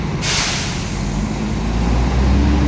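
A tronton heavy truck rumbles past on a busy road, a loud sustained low roar with broadband rushing noise that swells and holds close by throughout, with no talk.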